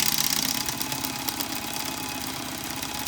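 A T238 electric speed loader runs loudly and continuously up close while loading a Saiga magazine for a gas blowback airsoft rifle, a dense motorized whir with a rough, grinding rattle.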